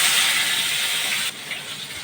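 Koi fish sizzling in hot oil, a loud bright hiss that drops abruptly partway through, then continues more softly with faint crackles, no voices.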